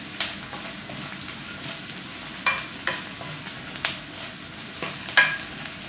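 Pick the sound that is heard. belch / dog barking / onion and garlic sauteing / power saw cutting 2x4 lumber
onion and garlic sauteing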